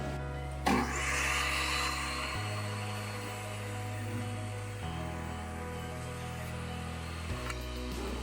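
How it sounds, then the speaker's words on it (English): A power tool cuts tenons in wooden blocks, giving a continuous loud whine that shifts pitch several times as the load changes, with a sharp bite at the start of the cut. "I'll cut exact same size tenons at the same time."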